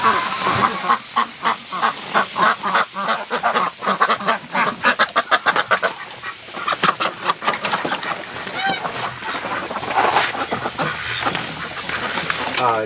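Wintering ducks and a goose at a lake at night call in a dense run of repeated quacks and honks, close and fairly loud, with a person talking over them.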